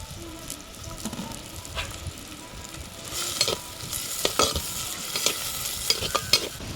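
Onions and green chilies fry in a pan, with a steady sizzle and scattered sharp crackles and pops that grow denser and louder in the second half; no one speaks.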